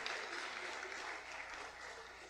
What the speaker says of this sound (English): Let's give a round of applause for these students for their hard work and their demonstration of leadership.